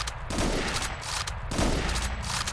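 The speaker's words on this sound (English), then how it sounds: "let's try to shoot him with the rifle first and see how it goes" Rifle fire at a zombie in the video game H&D: Zombie Survival, with two loud, heavy shots about a second apart, each followed by a sustained, noisy rumble of echo and impact.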